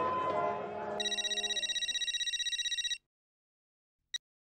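A telephone rings in a steady burst of rapid electronic trills for about two seconds, following a busier stretch of background sound, then stops; one short chirp follows after a pause, in a Hindi family sitcom setting.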